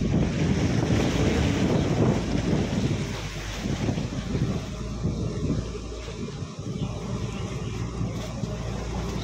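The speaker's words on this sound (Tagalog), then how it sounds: "sobrang lakas talaga ng alon" Strong sea waves surge and crash around a boat off Calaguas Island, a loud, heavy, continuous rush of water with gusting wind buffeting the microphone, strongest at the start and easing slightly later.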